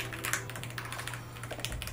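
Typing on a 98-key RGB backlit keyboard, a close run of soft, quick key clicks in an uneven rhythm, quiet and alone.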